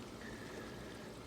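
Water runs into the lines of an aquaponics NFT system with a steady, soft trickle and gurgle. It stays faint and continuous, with no talk.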